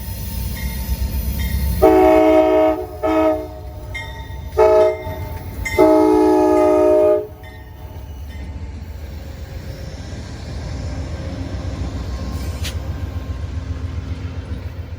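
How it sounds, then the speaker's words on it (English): Amtrak's Crescent passenger train, Train 20, crossing the CSX at Howell Tower in Atlanta with a short consist, sounds several loud horn blasts in an uneven pattern over a steady rumble of rolling cars that carries on after the horn stops. "Amtrak's Crescent Train 20 arrives in Atlanta, crossing the CSX at Howell Tower with reduced passenger service."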